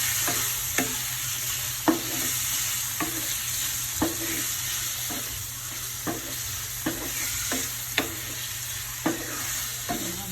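Chicken pieces with chicken bouillon cubes are stirred in a pot for tinolang manok, a spoon scraping the pot in regular strokes about once a second over a steady soft sizzle.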